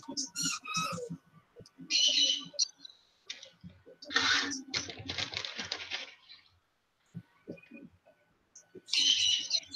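A pet bird gives short, high chirps in a few separate bursts at close range, mixed with clicking and a person talking, who briefly mimics the peeping.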